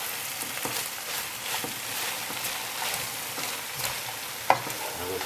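Ingredients for a Nepalese Gurkha curry sizzle in a pan while a spoon stirs them in repeated scraping strokes, with a close, continuous frying hiss and one sharp clink near the end.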